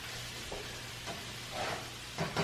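French toast frying in a pan for brunch, a steady soft sizzle with a few faint scraping and tapping sounds as pieces are turned over.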